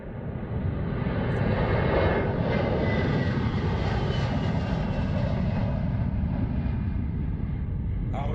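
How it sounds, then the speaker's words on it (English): An aircraft roars loudly and continuously through its departure at a gliding event, with a broad steady engine rumble that swells and then holds nearly level throughout. "This video showed one of the last departures at 12:33"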